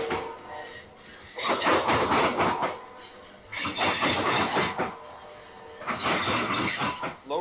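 A freight train carrying lumber and scrap loads rolls past, with rhythmic clattering of wheels over rail joints in recurring loud bursts separated by quieter stretches, heard from trackside at moderate distance.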